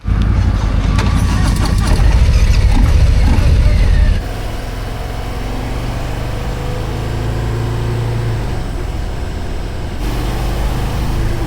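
A Harley-Davidson motorcycle ridden on Tuscan roads gives a loud, steady engine roar with heavy wind rush; the engine note settles lower partway through and keeps droning to the end without a break.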